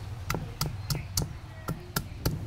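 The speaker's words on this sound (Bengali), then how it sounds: "আদা রসুনটা একসাথে বেটে নেব।" A grinding stone is worked on ginger and garlic together. There are about eight sharp, evenly spaced knocks of stone on stone, close and fairly loud, with soft scraping between them.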